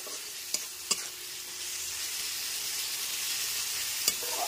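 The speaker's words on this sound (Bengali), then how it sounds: "আদা রসুনের পেস্টটা দেওয়ার পরেও খুব ভালো করে আদা রসুনটাকে পেঁয়াজের সাথে কষিয়ে নিতে হবে।" Ginger garlic paste fries with onions in a pan, giving a continuous close sizzle with a few clicks of a spoon scraping and stirring.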